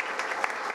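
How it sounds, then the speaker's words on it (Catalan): Applause for a council president and deputies at a Catalan inauguration event, a steady crowd clapping throughout a brief moment with no pause. "Voldria un fort aplaudiment tant al president com a tots els diputats."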